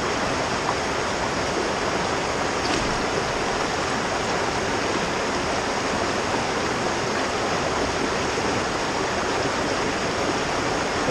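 A small Southern California trout creek flows in a constant, even rushing babble, close and fairly loud, with no talking.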